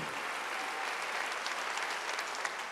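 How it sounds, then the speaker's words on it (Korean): A church congregation applauds during a Wednesday worship service, a steady, dense wash of clapping from many hands throughout, with no speech over it. "박수로 하나 드렸어요."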